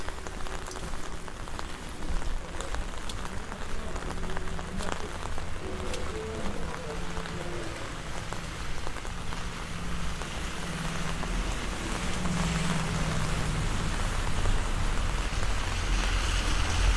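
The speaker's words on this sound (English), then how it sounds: "See strong rain" Sudden heavy rain pours down in Medjugorje, a steady, dense patter on surfaces close by that holds for the whole stretch and grows slightly louder toward the end.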